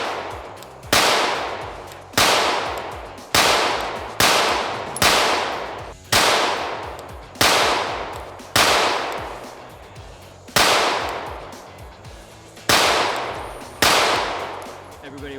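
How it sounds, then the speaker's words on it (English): Twelve single pistol shots from a CR920XP at a shooting range, each a sharp loud crack with a decaying ring, fired at a slow, fairly even pace of roughly one per second with brief pauses between. "I'm gonna go back to just shooting the gun."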